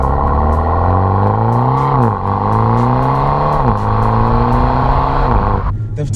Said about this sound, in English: the pops and bangs, which funny enough you can hear when you're revving the car